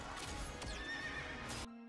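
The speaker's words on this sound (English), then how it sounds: "And then they ride the pony." A horse in a video game cutscene whinnies loudly and clearly while hooves clatter in a quick galloping rhythm beneath it, and the sound ends abruptly near the close.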